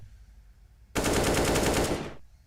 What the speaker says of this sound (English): Nice spray control from Flamesy